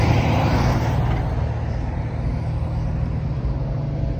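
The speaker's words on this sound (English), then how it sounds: "Sorry for the noise, I'm at an intersection." Traffic rumbling at a road intersection, a continuous wash of car and truck engines passing nearby, loud and steady without any speech.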